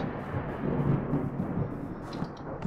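Video game thunder rolls in a rumbling, sustained low boom, fairly loud and steady, with a few faint higher tones over it near the end and no speech.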